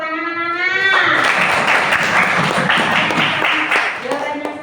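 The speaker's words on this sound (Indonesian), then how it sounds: "Tepuk tangan anak-anak." Schoolchildren in a classroom break into a burst of applause lasting about three seconds. A voice speaks just before and after the clapping.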